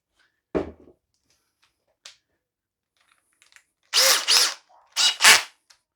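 Evolution R13CMB 18V cordless combi drill fired in a few short bursts, two brief spins then two louder paired whirs with quick speed ramps, separated by quiet gaps, close up.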